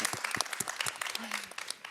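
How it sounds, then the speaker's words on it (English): Audience applause for the panelists at the close of a discussion on Indigenous Peoples' food and knowledge systems, a dense patter of clapping that holds steady for about two seconds before tapering slightly. "Don't you think they deserve an applause?"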